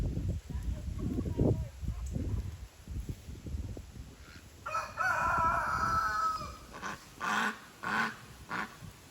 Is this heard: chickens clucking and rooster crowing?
yes